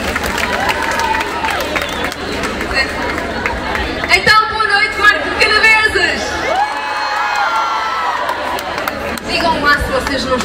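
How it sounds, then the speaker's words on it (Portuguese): Festival concert crowd at the Marco de Canaveses festivities in 2022 cheering, whooping and clapping, a dense roar of voices with scattered shouts and a brief swell midway, chatter mixed throughout. "Um forte aplauso, faz favor,"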